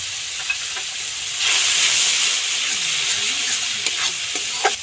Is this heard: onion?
yes